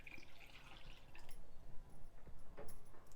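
Water poured into a cooking pot over medium-sized Indian gooseberries (amla) in a home kitchen, a faint, soft trickling and dripping that runs steadily for a few seconds.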